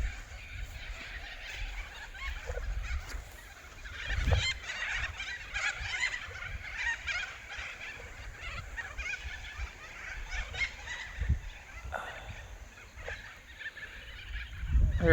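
Ducks on Bellevue Lake call with faint, scattered quacks and honks across a quiet outdoor backdrop, some calls closer and louder than others.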